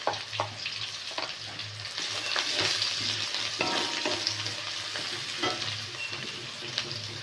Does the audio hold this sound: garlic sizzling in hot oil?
yes